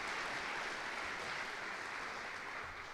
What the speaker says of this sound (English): A big round of applause to all of those groups of people